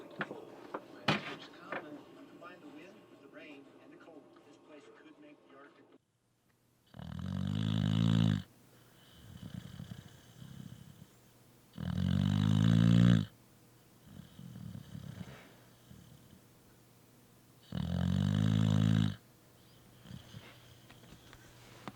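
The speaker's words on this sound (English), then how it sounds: "This dog snores so loud." A dog snores loudly in three long, heavy rasping bursts spaced a few seconds apart, with quieter breathing and faint background noise between them; an earlier stretch holds softer mixed sounds before the snoring starts.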